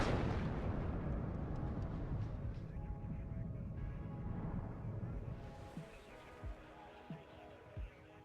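A high-explosive bomber strikes a building in the WARNO real-time war strategy game, producing a dense, rumbling roar of heavy blasts that slowly fades, followed by a few scattered thumps of distant fire.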